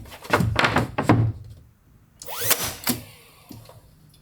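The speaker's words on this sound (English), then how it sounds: "So we're going to use that to install all this wood" A cordless nailer fires into wood during a home renovation, giving sharp mechanical thunks and a whirring buzz close by, a cluster of quick shots followed by a pause and a few more scattered hits.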